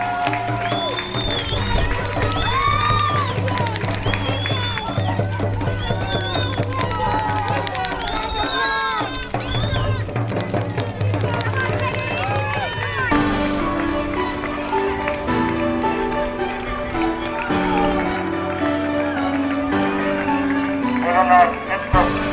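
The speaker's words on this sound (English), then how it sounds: "The cheering crowds" Crowd noise at a running race, a broad wash of cheering and applause layered under a loud, continuous music track that shifts partway through.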